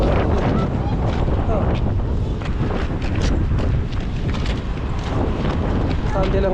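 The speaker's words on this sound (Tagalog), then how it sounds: "Medyo mahangin." Strong outdoor wind on a cold day in Canada, buffeting the microphone with continuous loud rumbling gusts that fill the whole stretch.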